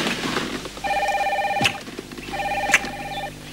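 A car telephone in a brand new car rings twice, each a steady electronic trilling burst of about a second, fairly close and clear over a quiet background with no talking.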